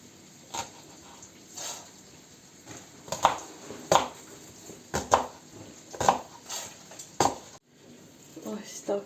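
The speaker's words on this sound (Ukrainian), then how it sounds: "Тепер будемо нарізати цибулю." Knife chopping an onion on a cutting board while preparing stuffed peppers with potato: a series of about seven sharp, irregular knocks close by, with faint kitchen clatter in between.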